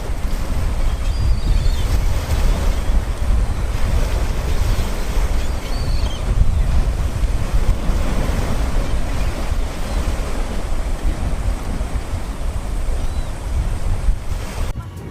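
Sea surf rolls steadily beside a beachfront cafe in Bang Saen, a constant close wash of breaking waves with wind rumble across the microphone and no clear voices.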